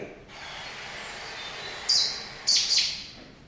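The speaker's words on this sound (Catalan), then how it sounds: "Mira, això és un rossinyol bord continental." A continental Cetti's warbler sings a few short, loud, explosive chirping bursts over a steady outdoor hiss, close and without talk.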